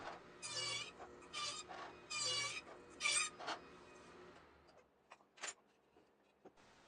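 A hand saw cuts quarter-inch slots in a wood block, with several rasping strokes in a steady push-pull rhythm and short pauses between bursts, close by, followed by a few faint scrapes and taps.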